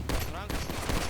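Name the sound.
gunfire in a roleplay video game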